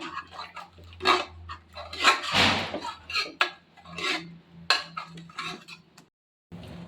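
Spoon pressing and mashing cooked lentils inside a pressure cooker, giving irregular soft clinks and scraping knocks against the metal pot at close range, with a brief quiet gap near the end.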